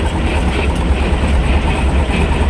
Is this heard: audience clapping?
no